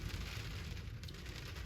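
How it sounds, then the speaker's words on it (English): Steady rain drums on the top shell of a Tundra truck bed camper, a dense, even patter heard from inside, continuous and close with no voices. "The rain hitting on the top of the shell here."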